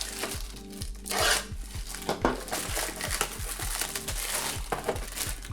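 Plastic bag crinkling close up as it is opened, a steady rustle with sharper crackles and crumples throughout, no talk.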